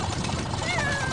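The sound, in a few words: cat meowing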